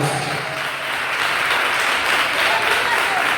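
A church congregation at a sermon applauds in a dense, steady wash of clapping, with voices underneath.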